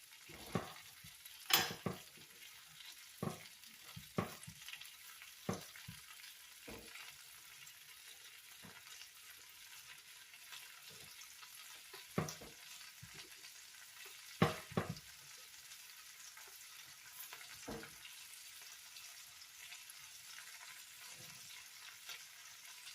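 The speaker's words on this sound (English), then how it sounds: "we're going to add our cabbage to our skillet" Cabbage for a cheesy cabbage casserole hits a skillet and fries with a faint, soft sizzle, broken by scattered sharp clicks and taps of a utensil against the pan, and no talking.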